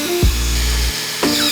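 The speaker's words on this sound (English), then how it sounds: "You want to pre-drill the holes for the screws, because if you don't, you might actually crack the wood" Power drill pre-drilling screw holes in wooden speaker stands, a loud close whine that spins up, holds for under a second, cuts off, then starts again briefly.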